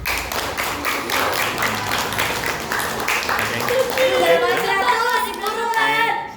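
A classroom of students claps after a biotechnology presentation, giving a steady burst of many hands that runs alongside talking and voices before tapering off.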